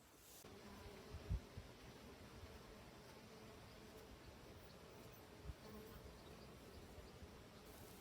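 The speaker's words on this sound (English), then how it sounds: "these busy bees buzzing around this beautiful tea tree plant" Bees buzzing around a flowering tea tree plant in a summer garden, a soft, continuous hum from many insects with faint rustling and a couple of small bumps, with no talking.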